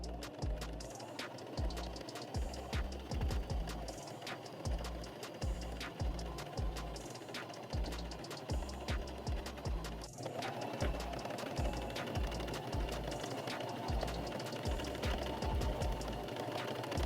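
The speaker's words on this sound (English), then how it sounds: "I am going to use a straight stitch, and then I'm gonna go back over with a zigzag stitch to make sure that it doesn't break apart" Sewing machine running straight and zigzag stitches on a hoodie, a continuous rapid mechanical chatter over a thudding rhythmic low pulse, close and loud throughout.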